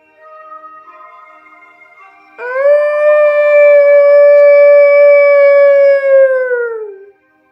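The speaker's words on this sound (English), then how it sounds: "A black wolf runs at the woman's heel, its mournful howl cutting through the still air like a needle of ice." A black wolf howls in one long, mournful, sustained note, loud and close, with a fainter tone before it and a falling tail as it fades out.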